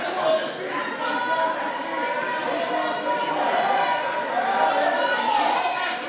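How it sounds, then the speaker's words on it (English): A loud, continuous crowd roar fills the venue at a grappling match between Robby Bloom and Justin Gonzalez, a dense wash of cheering and shouting voices holding steady with no breaks for the whole stretch. "Crowd's absolutely going nuts right now."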